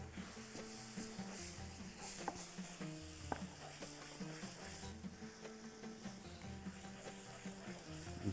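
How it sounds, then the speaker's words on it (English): Madrooba being stirred in a frying pan, a soft continuous sizzle with steady scraping and clicking of the spoon against the pan, quiet and close with no talking. "Mix it. Make sure it won't stick in the pan, because keep mixing it."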